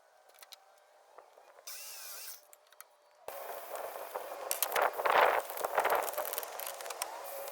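Power saw noise from a miter saw crosscutting window casing trim boards to length, a short rising burst of cutting noise that swells and fades under a steady workshop hum, fairly close and moderately loud.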